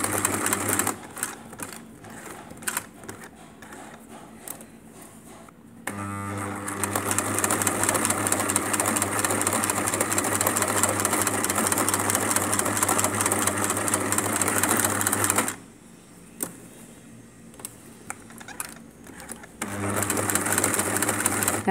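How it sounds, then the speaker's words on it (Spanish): A sewing machine stitches a pocket opening in long steady runs, loud and close, with a pause of quieter handling in the middle before the motor starts up again near the end. "Ahí en las puntas les conviene coser con el volante de la máquina, como para que nos quede bien"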